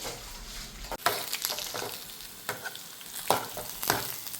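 Peanuts frying and being stirred in a pan, a steady close sizzle broken by sharp scraping strokes of the spoon at intervals, with no talk.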